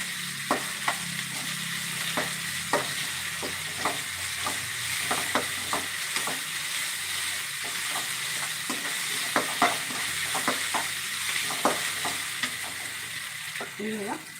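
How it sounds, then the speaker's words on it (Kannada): Ginger garlic paste frying in a pan for egg rice bath, a continuous sizzle punctuated by frequent sharp clicks and scrapes of a spoon stirring against the pan. "ಇವಾಗ ಒಂದು ಅರ್ಧ ಸ್ಪೂನ್ ಅಷ್ಟು ಶುಂಠಿ ಬೆಳ್ಳುಳ್ಳಿ ಪೇಸ್ಟ್ ಹಾಕ್ತೀನಿ"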